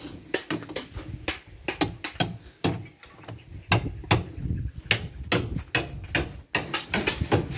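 Nails being hammered during day-four house construction, with repeated sharp, irregular blows ringing close by over faint background noise; no one speaks.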